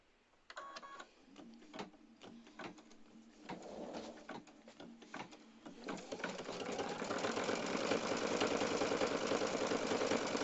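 An embroidery sewing machine runs a narrow zigzag stitch while making washable paper towels, starting with scattered clicks and short bursts before settling into a steady, close mechanical whirring that grows louder and continues alone.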